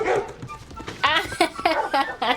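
Dogs bark in a scene from the 2000 film The Patriot, a run of sharp, fairly loud barks in quick bursts, mixed with a voice talking over them.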